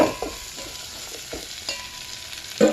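Brinjal pieces cooking in hot oil for sambar, a close sizzle broken by a few sharp stirring clinks and scrapes in a short burst, without speech.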